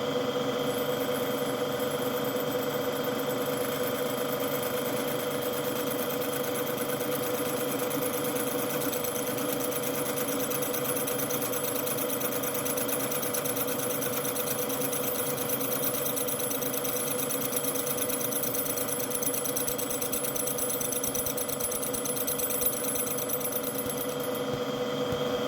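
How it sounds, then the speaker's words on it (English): A milling machine with a slitting saw cutting slots in screw heads for a BSA Bantam crankcase: a steady, continuous mechanical whir and hum held at an even loudness throughout, with no pauses. "just run through the 14, cut the slots."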